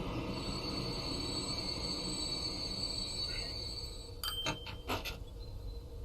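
A freight train loaded with lumber arrives in the Transport Fever 2 video game, with a steady rumbling rail hum and a few sharp clanks and squeals near the end, with no talk over it.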